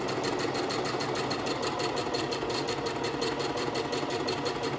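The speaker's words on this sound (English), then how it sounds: "And continue sewing." A sewing machine runs steadily, stitching kimono fabric with a fast, even mechanical rhythm that stays close and loud, without a break and with no talking.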